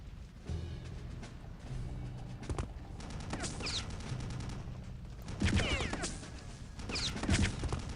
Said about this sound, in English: Okay, we got the machine gun nest back here.